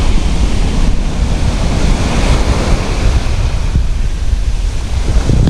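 Waves wash and break on the beach at Saltwick Bay, a loud continuous roar of surf mixed with gusty wind buffeting close up, with no voices.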